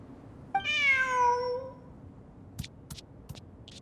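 A cat meows once in a video game, a single long, clear, drawn-out call, followed by a few soft clicks and taps.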